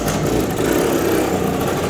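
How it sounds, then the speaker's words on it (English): A 1973 Honda MT250 Elsinore enduro motorcycle, long stored, runs with a steady, loud, close single-cylinder engine drone that holds an even idle-like putter throughout. "Bike runs decent"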